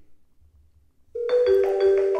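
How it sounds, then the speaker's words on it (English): Soft phone ringing with an incoming call transferred to an admission center executive: after a near-silent second, a bright electronic ring pattern starts and repeats in quick pulses, clear and close. "I'm getting a call here on the soft phone."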